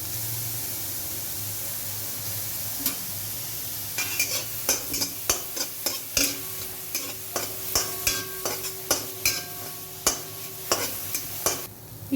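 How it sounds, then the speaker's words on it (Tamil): Carrot sautéing in a few drops of oil in a pan, stirred with a utensil: about eight seconds of soft sizzling broken by a steady run of sharp scraping and clinking strokes, close and alone with no talk. "சும்மா 2-3 ட்ராப் எண்ணெய் விட்டு கேரட்டை வதக்கிக்கலாம்"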